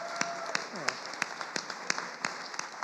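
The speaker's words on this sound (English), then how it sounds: "let us give a rousing hand of applause to the panelists who shared from their hearts" Audience applause for panelists at a summit, a light, rhythmic clapping with evenly spaced claps from a small group, and a faint vocal tone briefly sliding underneath.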